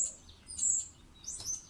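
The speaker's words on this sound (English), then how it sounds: "Can you guys hear the birds chirping?" Birds chirp outdoors in two clear, bright bursts of high tweets separated by a short pause, with no one speaking.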